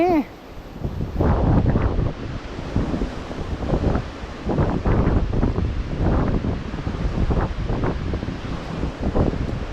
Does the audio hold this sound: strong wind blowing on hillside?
yes